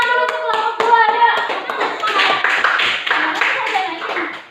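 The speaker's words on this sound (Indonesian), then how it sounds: "beri tepuk tangan dulu untuk kelompok 2" Students in a classroom clap for a group about to present, a burst of rhythmic hand claps that quickly thickens into loose, overlapping applause from the room and fades toward the end.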